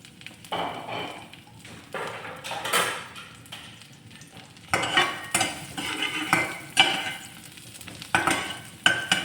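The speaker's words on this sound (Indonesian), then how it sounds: "itu minyaknya sudah panas, kita masukkan bawang putih, bawang merah, kita masukkan" Garlic and shallots stir-frying in hot oil for Taiwanese-style fried rice, a steady sizzle broken by repeated scraping and clinking of a spatula against the pan, close and fairly loud.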